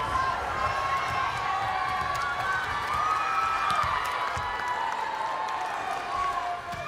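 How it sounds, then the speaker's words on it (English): Arena crowd at a professional women's volleyball match, Nebraska at Austin, roaring and cheering continuously with scattered shouts and whistles, while a commentator talks over the noise. "The crowd is on their feet."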